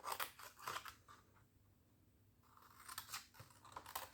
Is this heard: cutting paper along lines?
yes